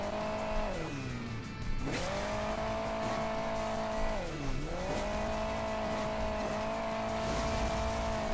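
A Hill Climb Racing 2 game car drives along with a steady engine drone that dips twice as revs drop and climb again, close and loud throughout with no talking.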